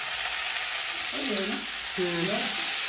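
Steady sizzling of a plain vegetable dish frying in a pan, with brief voices murmuring in the background.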